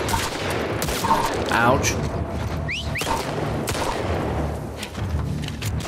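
Rapid gunfire crackles through a firefight in The Last of Us Part II video game, overlapping shots and bursts at close range, with a brief pained voice mixed in.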